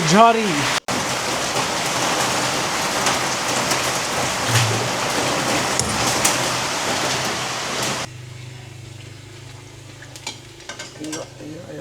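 Heavy rain in Pokhara, Nepal pours down steadily, a loud dense hiss that suddenly drops to a quieter patter near the end, with a brief voice at the start.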